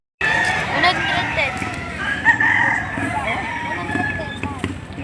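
A young rooster, a stag, crows loudly and close at a poultry sale in Lipa City, Batangas, its long drawn call repeating over a background of chatter and other fowl.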